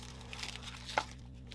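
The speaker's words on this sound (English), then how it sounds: "Lots of plastic bags." Plastic bags from a monthly stationery subscription box crinkle softly at close range, with a brief sharper crunch near the middle, alone and without talk.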